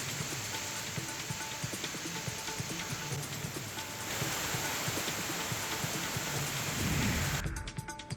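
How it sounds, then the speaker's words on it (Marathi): Heavy rain falls steadily in the Raigad district, a dense and continuous wash with low rumbles beneath it and no voices. "रायगड जिल्ह्यातील काही भागात पावसानं पुन्हा एकदा बरसायला सुरुवात केलेली आहे"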